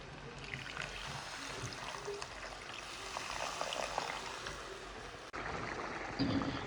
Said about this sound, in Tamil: பாருங்க கிரேவி நல்லா கொதிக்குது.